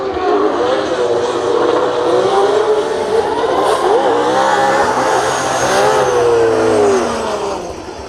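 A BMW drift car roars through a practice session at a Finnish drift event, its engine revving hard and rising and falling continuously, loud and close, with faint tire noise.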